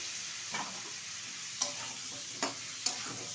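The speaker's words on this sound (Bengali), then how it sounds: "এটা এবার বেশ কিছুক্ষণ নেড়ে চেড়ে নেব" Drumsticks, potatoes and prawns stir-fried in a pan: a steady close sizzle broken by four sharp spatula scrapes and clanks against the metal.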